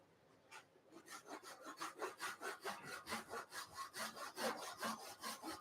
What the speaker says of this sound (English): just stop the lathe and we'll cut it in half with a little pull saw